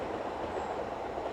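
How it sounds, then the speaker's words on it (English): A Welsh steam train runs along a railway line near Penrhyndeudraeth in North Wales, heard as a continuous, moderately distant rumble of rolling wheels and carriages with no break. "looks like the Welsh steam train"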